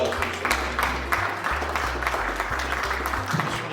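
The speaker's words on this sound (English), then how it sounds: "just give Diane another round of applause" Audience applause at a community talk on arts and wellness for re-entry, steady and fairly loud clapping from a room of listeners filling the whole stretch, with a low hum underneath.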